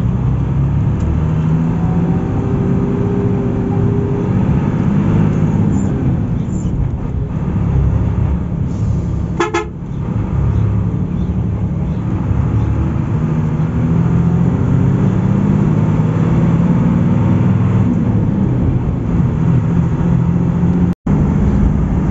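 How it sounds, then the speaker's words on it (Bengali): A brand new Hino AK1G bus engine drones steadily while cruising on the Gobindaganj to Dinajpur highway, a loud continuous low rumble with road and wind noise and no talk. "ব্র্যান্ড নিউ হিনো AK1G ইঞ্জিনের সাউন্ড শুনতে শুনতে"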